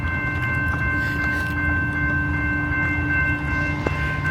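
Near a rail line in Girard, Illinois, a train rumbles past with a sustained horn tone riding over the steady rolling noise, moderately loud and unbroken.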